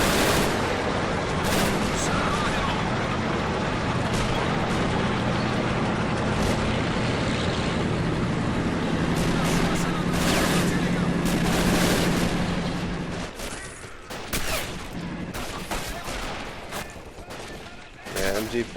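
MG42 machine gun fire crackles through a Men of War: Assault Squad 2 battle, with sustained loud bursts layered with other gunfire, explosions and a low engine drone, then sharper scattered shots toward the end.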